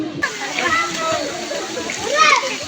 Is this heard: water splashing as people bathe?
yes